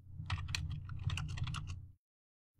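A run of quick, close computer keyboard keystrokes as Linux commands are typed in Kali, a steady clatter lasting about two seconds before it stops and falls silent.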